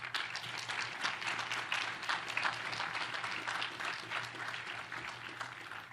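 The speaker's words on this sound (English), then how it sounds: "How about a hand of applause?" A large outdoor crowd at the commissioning ceremony of the submarine USS Hyman G. Rickover applauds steadily, a continuous wash of clapping at moderate volume over a low hum.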